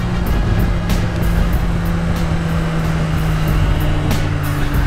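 A 2017 Suzuki GSX-R 1000 motorcycle with variable valve timing runs hard under heavy, steady engine roar mixed with rushing wind, loud and close throughout with no pauses.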